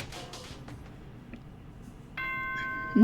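A school announcement chime in Danganronpa: Trigger Happy Havoc, a clean steady electronic bell tone that starts partway through and holds, heard alone after a quiet stretch.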